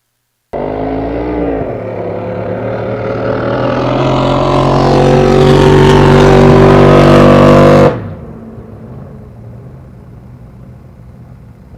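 A jet drag boat powered by a 540 Chevy engine roars past at a racing event, its loud engine rising steadily in pitch for several seconds before cutting off sharply, with a low rumble trailing away.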